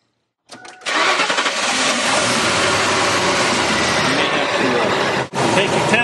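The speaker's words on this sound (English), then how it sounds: "Now we'll start the engine." A car engine being used for an ignition coil test cranks briefly, then catches and settles into a steady, close, loud idle that runs on with a short dip near the end.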